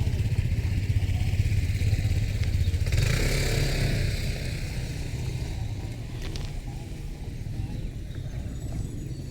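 Many motorcycles fill a parking area, a steady rumbling engine drone with clattering and a passing rev, fairly close and continuous.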